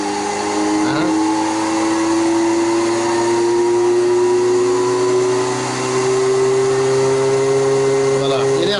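An electric motor runs on a VEVOR 2.2 kW frequency inverter, giving a loud, steady close-up whine whose main tone climbs slowly in pitch over a broad mechanical hum.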